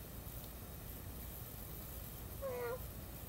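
A single short cat meow sounds near the end, faint against a steady hiss of background noise, following a long quiet stretch.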